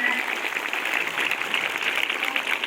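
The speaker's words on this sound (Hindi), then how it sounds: "सब लोग तालियां बजाएं," Applause from an audience at a school National Sports Day event welcoming the chief guest, a steady dense clatter of many hands sustained for the whole stretch at moderate distance.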